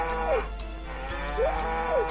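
Cows moo in the farm game Harvest Moon 64, two clear drawn-out calls a second apart, loud and close over a steady low hum with no talking.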